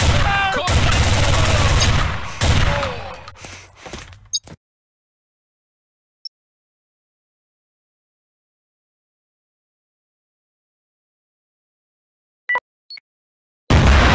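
Gunfire in the Combat Arms: Reloaded shooter game: dense, loud bursts of shots for about four seconds, then sudden silence broken only by a few faint, brief clicks before sound returns at the end.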